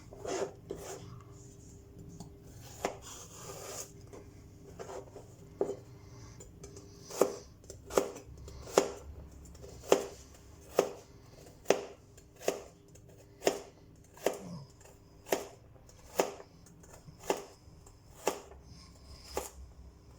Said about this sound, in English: I will start off with chopping these carrots up into little pieces